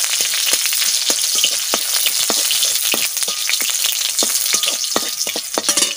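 Garlic frying in hot mustard oil, a steady close crackling sizzle with scattered sharp pops throughout, no voices.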